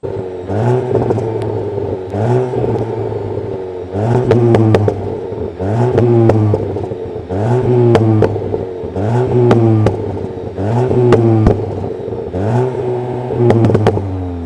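A Volkswagen Golf GTI Clubsport engine revs repeatedly, rising and falling in a regular rhythm of about a dozen loud, close blips with crackles between them.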